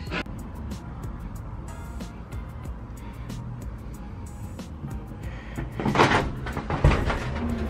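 A door is opened in a noisy indoor space, with a steady rumbling background and a louder burst of clattering and rustling near the end. Faint voices may be present.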